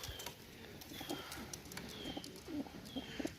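A pair of teddy pigeons coos after release, with low throaty calls repeating at a steady rhythm close by, over light background noise and a few faint chirps.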